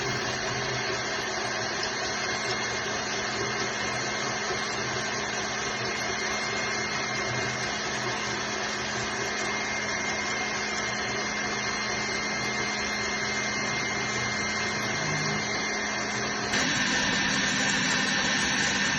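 Eggs and sugar are being beaten by an electric mixer for an orange semolina cake; the motor drones loud and constant, with a shift in pitch near the end as the speed changes.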